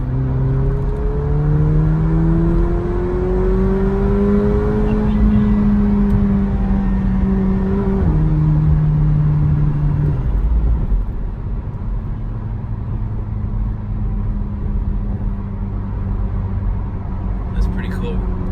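A Jeep Trackhawk accelerates hard, its engine climbing in pitch through several upshifts with a loud, steady roar, then settling into a smoother cruising whir.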